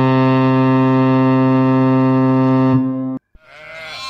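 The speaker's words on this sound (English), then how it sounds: "S for sheep." A single long, loud, steady bleat from a sheep, droning evenly for about three seconds before cutting off, followed by a brief quieter sound.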